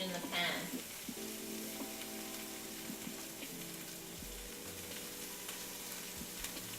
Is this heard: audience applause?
no